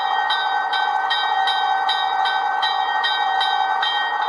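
Rapid, evenly spaced clangs of a locomotive bell from a Rapido HO scale Alco PA sound decoder ring steadily about three times a second, bright and metallic, close with no talking.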